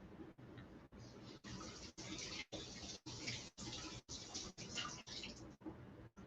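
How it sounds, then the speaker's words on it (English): Watermelon and cucumber rinsed under a running faucet for a Thai watermelon salad, a steady broadband splash of water close by, broken by brief regular gaps as the produce is turned under the stream. "I'm gonna give it a rinse one more time."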